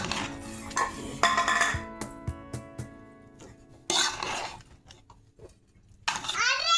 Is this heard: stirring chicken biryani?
yes